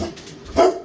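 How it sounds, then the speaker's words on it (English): A dog barks once in the background, a short muffled woof near the end amid quiet room noise. "that's my dog barking in the background"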